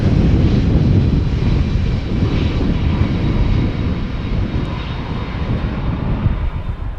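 An airliner landing at Schiphol Airport, a loud, broad engine roar that holds steady and then gradually eases as the aircraft rolls out, with no talking.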